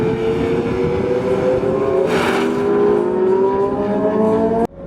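A high-revving Audi R8 V10 engine screams on a Las Vegas track, pitch rising and falling through gear changes, loud and close, cutting off abruptly at the end.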